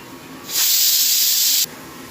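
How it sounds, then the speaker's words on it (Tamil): Pressure cooker whistle on a kitchen stove while mutton cooks for bhuna masala, one loud, steady hiss of steam lasting about a second and then cutting off abruptly. "5 விசில் வந்துச்சு."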